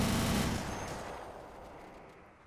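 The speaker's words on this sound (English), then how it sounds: "I sent these units into a gunfight" Gunfire from infantry units in a gunfight in Men of War Assault Squad 2, a distant fading clatter of shots and battle noise that tails off quietly over a couple of seconds.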